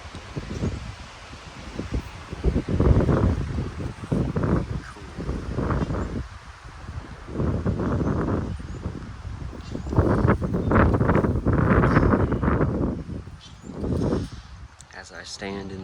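Wind gusting outdoors through a garden of shade-loving Japanese maples, rustling leaves and buffeting the microphone in surges that rise and fade; a person talks intermittently over it.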